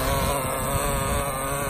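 A Traxxas Jato 3.3 nitro RC car engine with low compression runs steadily, a buzzy high-pitched drone with a rough, rattly texture, close and fairly loud throughout the brief moment.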